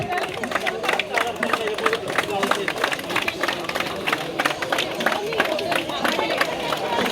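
Audience applause at a swimming club event's welcoming ceremony: scattered, lively clapping from a crowd with murmuring voices underneath, steady throughout.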